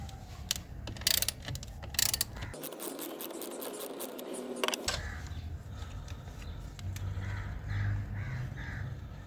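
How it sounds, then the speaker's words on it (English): A ratchet loosens the nut on the battery terminal of a 4th-generation Kia Sportage, giving a steady run of quiet, close clicking with a brief mechanical rattle in the middle. "Then loosen the nut and disconnect the cable."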